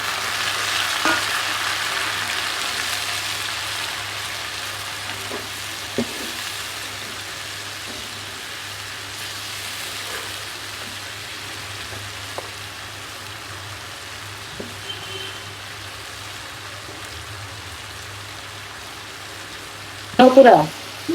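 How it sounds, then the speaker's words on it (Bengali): Taro (kochu) bhaji with shrimp frying in a pan, a steady soft sizzle running throughout with a few faint clicks and a louder clatter near the end. "দেখো কি সুন্দর ভাজি করতেছি আমি"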